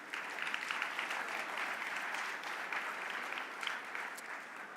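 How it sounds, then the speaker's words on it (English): An audience gives sustained applause after the premier's address, a steady roomful of clapping with scattered sharper claps, moderately distant and without talk. "How about one more round of applause for Premier Scott Moe and President Golden."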